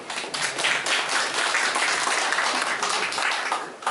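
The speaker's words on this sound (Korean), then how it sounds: "큰 박수 부탁드립니다." An audience at a Korean forum on heating and energy costs in Daegu applauds steadily, a dense continuous clapping that stays loud throughout the short stretch, with no voices over it.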